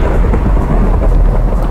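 Thunder rumbles with steady rain in the Minecraft video game, a loud, continuous low roar filling the whole stretch without pause or speech.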